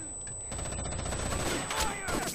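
A grenade blast and its aftermath in the Rainbow Six Vegas 2 video game, a loud rumbling burst that spreads across the short clip, with gunfire and chatter mixed in.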